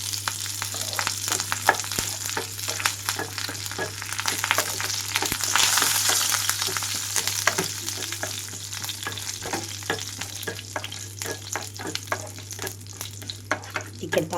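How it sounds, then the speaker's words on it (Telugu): Mustard seeds, cumin, dried chillies and curry leaves sputter and crackle in hot oil for a Telugu-style tempering, a steady dense sizzle dotted with sharp pops throughout, with no voices. "ఇక్కడ తాలింపు అంతా వేగిపోయి ఆవాలంతా చిటపటమంటూ వేగిన తర్వాత"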